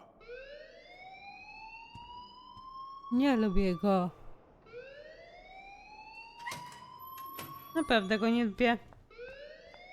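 Repeated rising electronic alarm tones wail in Life is Strange, each sweep climbing and then falling silent, loud and near, while a person talks between and over them.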